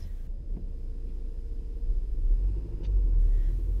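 A car approaches a small roundabout and drives onto it, heard as a steady low road and engine rumble that swells slightly as it enters.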